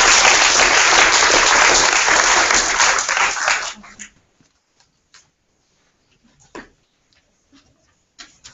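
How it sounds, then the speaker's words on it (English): Audience applause at a publishing industry conference session, loud sustained clapping for about four seconds that fades out, leaving a few scattered claps and soft room noise. "Round of applause."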